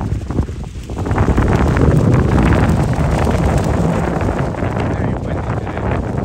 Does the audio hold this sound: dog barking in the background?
no